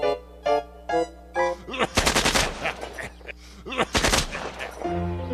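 Cartoon gunfire from a dad's gun in an animated show: a loud, close burst of rapid, machine-gun-like shots with short pauses between volleys, mixed with a tonal, sung or music-like voice running underneath.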